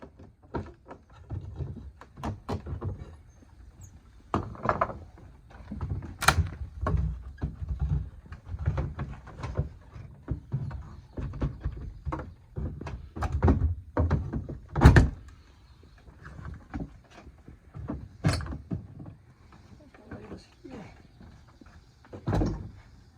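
A crowbar pries at a rotted door frame, giving repeated knocks, creaks and thunks as the loose, unnailed door shifts in its frame, close and moderately loud, with brief pauses between bursts.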